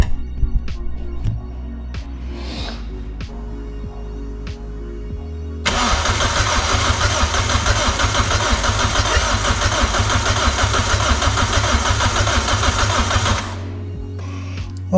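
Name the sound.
Toyota MR2 engine being turned over to build oil pressure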